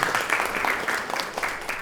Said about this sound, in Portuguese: Aplaudam de novo.